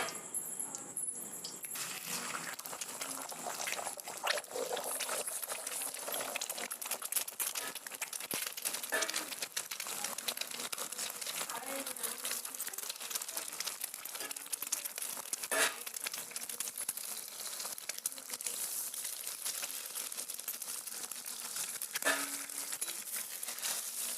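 Eggs sizzle in hot oil in a pan, frying steadily as a dense crackling hiss with scattered pops and spits, loud and close, running unbroken with no talk.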